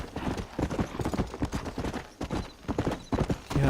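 A horse galloping in the video game Red Dead Redemption, rapid rhythmic hoofbeats thudding steadily and close throughout, with a brief snort or whinny near the end.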